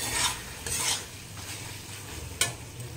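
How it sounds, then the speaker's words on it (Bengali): Hilsa fish head frying in a pan, a steady crackling sizzle with periodic stirring scrapes and one sharp utensil knock, close and moderately quiet. "আমি এখানে ভাজছি, একটাই ছোটো মাথা ছিল"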